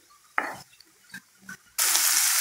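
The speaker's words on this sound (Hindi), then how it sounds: "मिक्स कर लेंगे।" Spice paste of onion, ginger, garlic, green chilli and tomato stirred in a frying pan for a paneer mushroom stir fry: a few short scraping stirs, then a loud steady sizzle takes over near the end.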